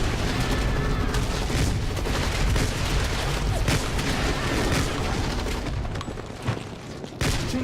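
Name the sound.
shotgun firing in a video game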